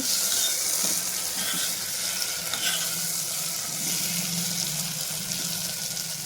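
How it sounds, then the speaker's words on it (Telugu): Andhra-style stuffed brinjals fry in oil in a pan, giving a steady, close, bubbling sizzle with faint crackles and light stirring throughout, without speech. "వంకాయ కొంచెం లైట్గా ఫ్రై అవుతూ ఉంది"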